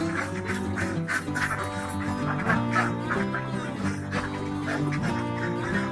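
Laying ducks on a duck farm quack continuously in a dense, overlapping chorus, many birds calling at once at close range with no voices over them.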